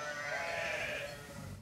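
Ewes bleating in a lambing-season sheepfold at Tarascon, one drawn-out wavering bleat, fairly close and alone against a quiet barn background.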